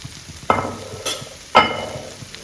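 Paneer cubes being stirred into masala in a frying pan, with two distinct scraping strokes of a spoon against the pan over a soft background sizzle, close and clear.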